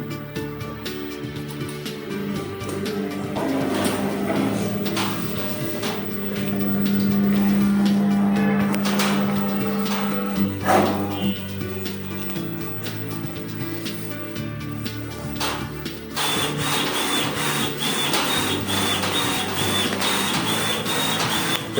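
A desktop UV printer and an industrial-grade UV printer run together while printing golf balls, a loud, continuous mechanical whir with rhythmic carriage clicks and a sustained motor tone that changes character near the end.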